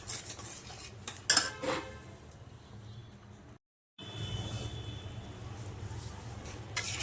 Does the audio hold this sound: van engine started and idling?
no